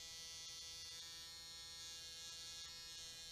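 Eyebrow embroidery tattoo machine giving a steady, faint, high electric buzz that holds constant throughout, with no talking.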